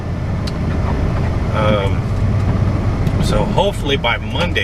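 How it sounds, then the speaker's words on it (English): Holiday road traffic on a December highway, heard from inside a flatbed owner-operator truck, makes a loud steady low rumble under someone talking throughout. "there's still a lot of holiday traffic on the road"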